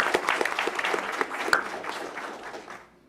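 An audience claps for an elementary school campus at a school board meeting, a brief burst of scattered, sharp hand claps that thins out and fades to silence after about three seconds.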